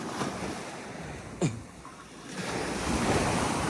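Ocean surf washing onto South Beach on a morning shoreline, a steady close wash of waves with wind rumble across the microphone and a brief sharp knock partway through.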